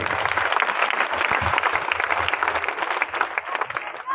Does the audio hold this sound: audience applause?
yes